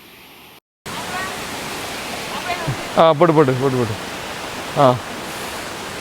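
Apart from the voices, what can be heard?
waterfall on Pothigai hills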